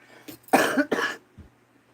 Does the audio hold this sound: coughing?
yes